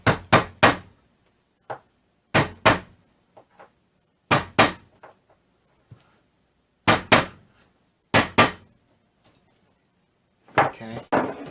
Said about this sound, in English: tap those in with a hammer to get them nice and flat.